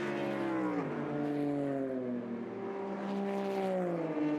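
Race cars lapping Watkins Glen during qualifying for the Sahlen's Six Hours of The Glen, engines revving with pitch rising and falling through gear changes, fairly distant and continuous.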